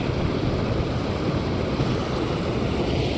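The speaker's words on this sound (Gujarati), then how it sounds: "સામે નાલામાં પાણી આવવા માંડ્યું છે" Rain-swollen floodwater rushing down a stream channel after heavy rain, a continuous broadband roar with wind-like hiss, steady and loud, no voices.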